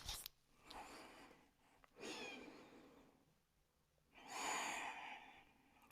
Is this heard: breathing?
yes